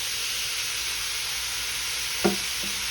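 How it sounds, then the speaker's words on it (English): Shrimp sizzle on a grill with garlic and Worcestershire sauce, a loud, steady close frying hiss with a couple of brief knocks near the end. "garlic to my shrimp as they grilling"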